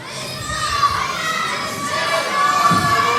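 Wrestling crowd at a live match cheering and shouting, a loud continuous roar of many voices that swells slightly toward the end, with a commentator's speech blended in.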